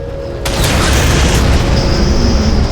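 A Halo 4 particle cannon fires with a sudden loud, deep boom, then a sustained roaring rumble that holds steady with a high whine, close and alone with no talk.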